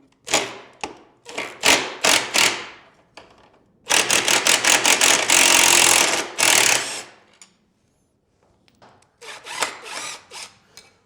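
An 18-volt Makita driver with a T40 bit backs out a bolt on a BMW R1300 GSA motorcycle in short, loud bursts of rapid ratcheting clatter. The bursts are separated by brief pauses, and a longer sustained run sits in the middle.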